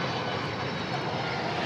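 A jet airliner on approach to runway 18 right at DFW Airport produces a steady, loud broadband engine roar with no breaks.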